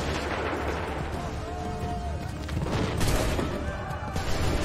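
Musket volleys in the video game Assassin's Creed III at a Lexington and Concord battle, a dense crackling fusillade of overlapping shots with booming blasts, swelling louder toward the end.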